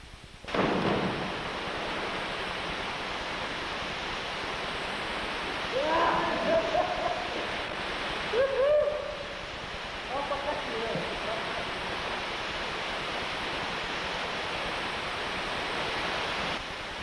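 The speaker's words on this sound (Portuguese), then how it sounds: "a gente chega a esse vale enfurnado, a esse cânion, onde fica a Cachoeira do Sossego" Steady rushing roar of the Cachoeira do Sossego waterfall inside a deep, enclosed canyon, a constant broadband wash of falling water filling the whole span, with a few faint voices briefly audible over it.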